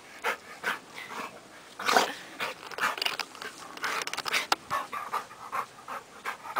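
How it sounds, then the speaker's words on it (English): A dog, a female, pants rapidly and runs around nearby, giving soft whimpers and brief bursts of movement in a quiet indoor room. "Sorry if you hear my dog, she's running around."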